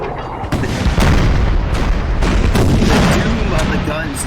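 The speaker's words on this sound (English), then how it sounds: "you guys can hear the thunder of the guns" Napoleonic artillery cannons fire repeatedly in a 4v4 battle on the Jena map of the video game Napoleon: Total War. Loud, booming thuds roll in an uneven volley over continuous battle rumble, with a voice faintly in the mix.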